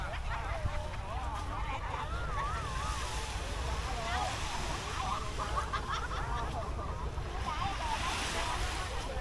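Calm morning sea washes steadily onto the beach at Đá Ông Địa in Phan Thiết, a continuous broad surf hiss with soft wind, while voices murmur in the background.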